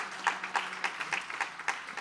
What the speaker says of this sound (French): L'Église, applaudissons le Seigneur encore.